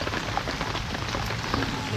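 Rain falling steadily outdoors, a dense continuous patter of drops on surfaces with no pauses and no talk.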